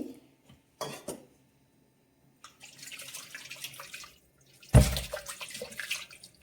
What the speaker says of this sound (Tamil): இப்படி சுடுதண்ணியை ஊற்றி